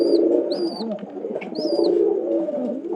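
A pair of domestic pigeons in a loft coo steadily at close range, a continuous low throaty rolling murmur, with a few faint higher chirps from other birds.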